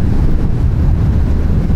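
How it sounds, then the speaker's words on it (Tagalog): Strong wind buffeting the microphone while riding a motorbike beside a lake, a loud, steady low roar that fills the whole short stretch with no other sound. "Ang sarap pakiramdaman ng hangin."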